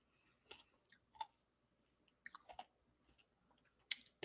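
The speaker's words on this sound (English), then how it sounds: "I had to chew it. I'm sorry. I was trying not to." Quiet, close-up crunching and clicking as a hard Ricola cough drop is chewed, in scattered short bursts separated by silence, with a louder crunch near the end.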